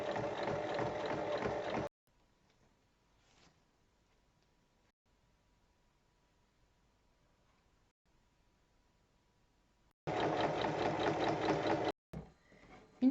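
Sewing machine stitching fabric rectangles right sides together with a 1 cm seam allowance, two steady bursts of whirring motor, the first for about two seconds and the second after a long silent pause, both close and loud.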